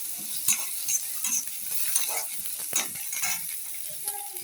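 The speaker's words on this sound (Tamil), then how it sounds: "ஆனியன் போட்டு நல்லா வதக்குறோம்." Onions sautéing in a pan, a steady sizzle broken by repeated scraping and stirring strokes at close range, with no voices.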